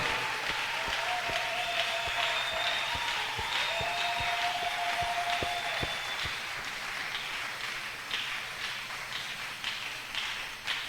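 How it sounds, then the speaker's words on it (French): Church congregation applauding together, a dense continuous clapping that stays loud and steady, with scattered sharper claps and a faint tone or voice under it. "Acclamons le roi des rois."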